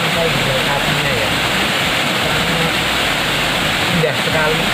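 Sumuran waterfall in Magelang, Central Java, roars as a steady, loud broadband rush of falling water that fills the whole clip, with faint voices beneath it.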